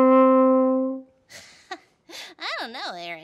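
A natural French horn without valves, its notes shifted by a hand moving inside the bell, sounds one long steady held tone that fades out, then gives way to brief voice-like sounds and wavering, bending tones.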